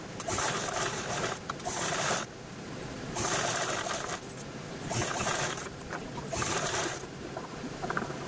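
Sewing machine running in several bursts with short pauses, stitching along the edges of fabric for homemade microwave oven gloves; a steady, fairly loud mechanical whir with no talking.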